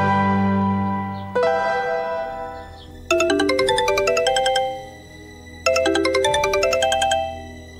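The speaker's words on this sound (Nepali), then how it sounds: "तलीलाई फोन गर्नु पर्यो घर पुगे पुगेन" A mobile phone ringtone plays during an outgoing call: a tone, then two bursts of bright, rapid melodic chimes separated by pauses, loud and clear with no talking.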